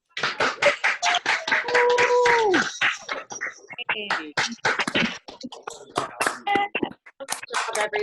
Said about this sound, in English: So let's give them a nice cheer, clap, whatever you're feeling.